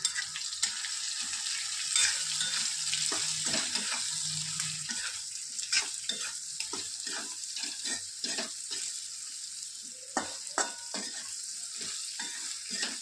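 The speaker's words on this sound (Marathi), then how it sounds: "आपलं गरम झालेलं आहे, त्यामध्ये आपण भेंडी सोडून देऊ। त्याला छान मिक्स करून घेऊ।" Okra frying in hot oil in a home kitchen, a steady bright sizzle broken by repeated clicks and scrapes of a spoon stirring in the pan, close and continuous.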